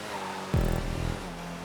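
An upgraded Ardent sports car in GTA 5 racing revs up sharply, engine pitch sweeping and buzzing loud for about half a second before settling back to a steady drone, with no talking.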